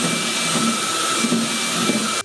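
Miko V11 cordless vertical vacuum cleaner running steadily with a loud, even whine and airy rush, then cutting off abruptly at the end.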